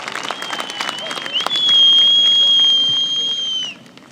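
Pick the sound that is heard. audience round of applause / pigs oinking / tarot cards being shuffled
audience round of applause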